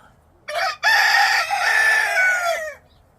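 A farm rooster crows nearby, one loud, clear cock-a-doodle-doo in a short opening note and a long drawn-out call over quiet background.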